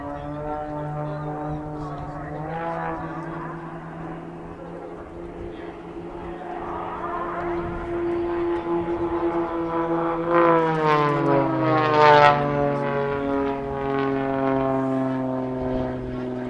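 Aerobatic propeller aircraft, Extra 300s at an airshow, dive back toward show centre, their droning engines rising and shifting in pitch as they close in loudly, several planes overlapping in a sustained, swelling roar.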